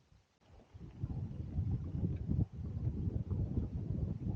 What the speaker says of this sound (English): It's getting crazy windy in this saddle, so we're heading down.